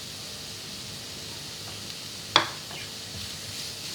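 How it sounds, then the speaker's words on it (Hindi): Cabbage lightly frying in a pan gives a steady, soft sizzling hiss, broken once by a single sharp clack of a utensil against the pan. "फ्राई करेंगे, हल्का हल्का सा।"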